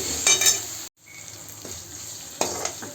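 Ginger, garlic and green chilli paste sautéing in a pan: bright hiss and sizzle with a brief dropout, then soft stirring scrapes and a couple of utensil knocks, close and fairly loud.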